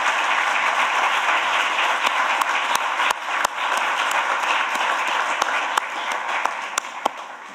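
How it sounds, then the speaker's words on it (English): Sustained audience applause for Ukrainian delegates at the 2023 OGP Global Summit, a dense wash of many hands clapping steadily throughout, with a few sharper individual claps standing out. "Yes, please give them a round of applause."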